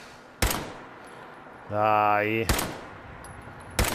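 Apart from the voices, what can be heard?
gunfire in a video game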